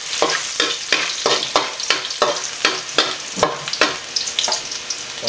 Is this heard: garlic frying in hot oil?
yes